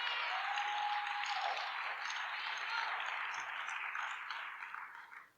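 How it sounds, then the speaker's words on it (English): Faint, distant applause from a wrestling hall-of-fame audience, a soft continuous wash of clapping that fades out at the end. "Give them a hand of applause"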